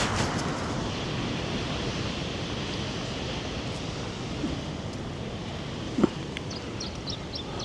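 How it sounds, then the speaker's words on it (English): Ocean waves wash onto a beach in a steady, broad roar of surf with some wind noise across the microphone, plus a single brief knock partway through; no one speaks. "the waves are sounding pretty good. I'm going to turn the voice isolation off now, so you'll be able to hear the waves"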